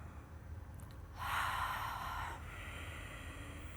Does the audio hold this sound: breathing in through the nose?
yes